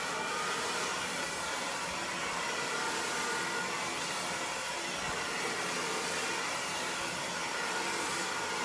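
A hair dryer blows steadily and loudly close by while long layered hair is blow dried, a constant broad whoosh with no pauses.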